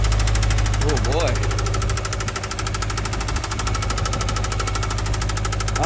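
A Subaru engine with rod knock runs with a loud, dense, rapid metallic knocking over a droning idle, close and continuous, with a voice briefly heard over it.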